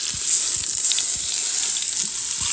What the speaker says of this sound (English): So I'm going to continue to let this sear.